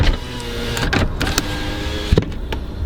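The electric windows of a 2005 Lexus RX 300 whir with a steady motor hum for a few seconds, with a couple of short clicks and thumps partway through, close and fairly loud.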